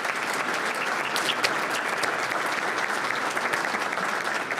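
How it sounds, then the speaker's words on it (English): Steady round of audience applause for sponsors at a mayors and managers forum, a moderate, even patter of many hands clapping together with no voices over it. "I just want to give them all a round of applause and say thank you."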